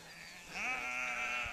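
Sheep and goats being herded back toward camp in Mongolia, one clear drawn-out bleat rising from the flock at moderate distance over a quiet outdoor background.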